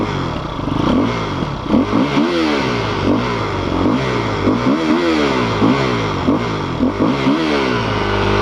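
A KTM EXC-F 250 enduro motorcycle is ridden hard nearby, its four-stroke engine revving up and down in repeated surges with gear changes and rattling clatter, loud and without speech.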